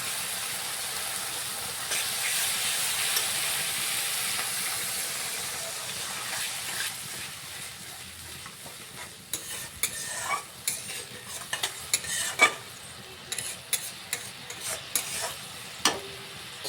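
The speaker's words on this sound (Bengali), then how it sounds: "ঠিক এই স্টেজে আমরা এখানটায় ভালো করে মিশিয়ে এখানে জলটা দিয়ে দেবো।" Spiced masala frying in oil for katla fish kalia gives a steady close sizzle and hiss, then water goes in and a spoon scrapes and knocks around the pan in uneven bursts.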